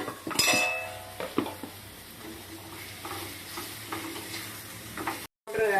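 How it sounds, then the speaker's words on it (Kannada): A spoon stirs vangibath powder into a Methi Bath mixture of fenugreek greens in a pan, giving close, quiet scraping and clinking against the metal over a faint sizzle, with no voice. "ಪೌಡರ್ ಹಾಕಿ ಇದನ್ನ ಹುರ್ಕೋತಾ ಇದ್ದೀನಿ, ಮಿಕ್ಸ್ ಮಾಡ್ಕೋತಾ ಇದ್ದೀನಿ."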